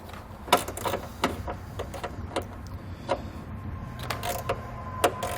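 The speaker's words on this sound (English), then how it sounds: "So I'm going to take a 10mm socket. I'm going to loosen up that nut." A 10mm socket loosens a nut on a 2016 Jeep Renegade during trailer wiring installation, giving a series of sharp, close ratcheting clicks and metallic ticks spaced irregularly over a faint background hum.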